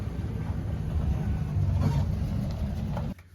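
A 1967 Plymouth Barracuda engine running rough without settling into an idle gives a steady, low, uneven rumble up close that cuts off abruptly near the end.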